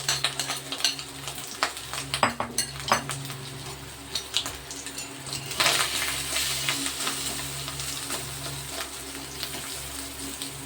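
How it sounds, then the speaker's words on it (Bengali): Catla fish roe frying in a little hot oil in a wok over low heat: a steady close sizzle with scattered sharp pops and crackles, plus occasional scrapes and knocks of a utensil against the pan. "এবার আমি ডিমটা ভেজে নিচ্ছি।"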